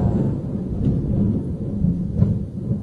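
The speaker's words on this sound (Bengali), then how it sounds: "কি বিদ্যুৎ চমকাচ্ছে" Thunder during a thunderstorm with lightning, a continuous low rumble that rolls and swells for a few seconds and is heard alone without talk.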